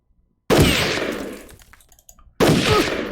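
Support-fire gunfire from the Jagged Alliance 2 video game: a loud, close burst of rapid shots that trails off, a short lull, then a second sharp burst starts.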